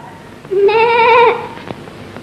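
A single sheep gives one clear, wavering bleat lasting under a second, fairly close and loud against a quiet rural background.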